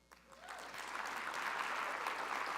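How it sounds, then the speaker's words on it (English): Applause from an audience at a reception, building quickly from a few claps into steady, dense clapping that carries on to the end. "But another round of applause, please"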